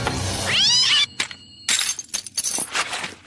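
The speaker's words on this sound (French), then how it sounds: "pauvre petit minou" A cartoon cat in a French-dubbed Totally Spies episode lets out one short rising meow, followed by bright clattering, glassy crash effects.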